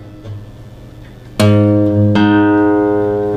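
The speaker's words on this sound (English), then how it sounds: "if I play them at the same time, a little strum, they sound the same to me now" Two guitar strings are strummed together after tuning, with a single clear strum ringing out, then a second strum that sustains with steady harmonic tones, close and loud.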